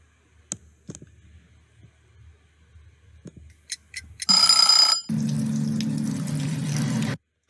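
A faucet turns on to rinse a t-shirt after a few scattered clicks and knocks. A loud, bright hissing spray gives way to a steadier, fuller gush of running water that continues for a few seconds, then stops abruptly.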